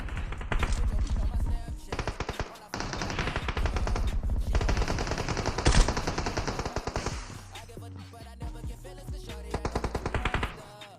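Rapid automatic gunfire in a mobile battle royale shooter, repeated loud bursts of fast shots close by with brief gaps between volleys, one sharp louder blast midway.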